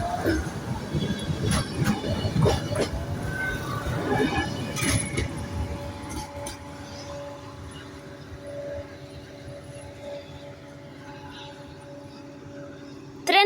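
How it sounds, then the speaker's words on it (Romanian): A seven-carriage train pulls out of Neptun station bound for Mangalia, its rumble and metallic clinks gradually fading under ongoing conversation. "Trenul ăla de-abia a plecat, care pleacă la Mangalia"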